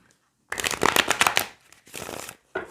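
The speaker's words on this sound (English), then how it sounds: "That's a good round of shuffling." Tarot cards being shuffled by hand in bursts: a long riffling run, a brief pause, then a second shorter run and a final quick flutter, close and crisp with no talking.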